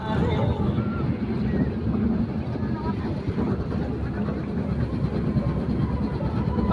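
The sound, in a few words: fairground ride train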